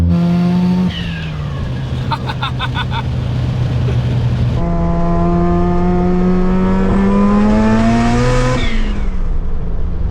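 Twin-turbo Mazda RX-7 FC rotary engine revving hard, loud and close, with rising and falling pitch sweeps, a rapid stuttering burst partway through, then a long climbing rev and a drop-off at the end.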